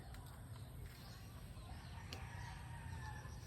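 Egg-laying hens cluck continuously over a steady noisy farm background, with a rooster crowing faintly amid the flock.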